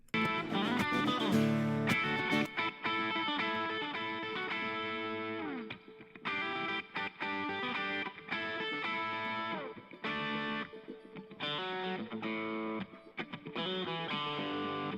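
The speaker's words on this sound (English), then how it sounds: "let's see what this guitar sounds like with the reverb added" A distorted electric guitar with reverb, in a mix of a live rock/country song, plays chords and riffs with a washy, echoing tail, loud and steady with brief breaks between phrases.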